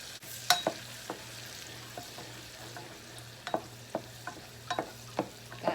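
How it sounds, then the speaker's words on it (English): Onions saute in olive oil in a pan under a low, steady sizzle, broken by scattered clicks and scrapes of stirring. "I'm going to go ahead and put my onions in at this time. Get those sauteing down a little bit"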